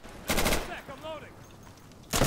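Gunfire bursts in the tactical shooter Insurgency: a loud rapid volley at the start and another at the end, with quieter game sounds and faint voices in between.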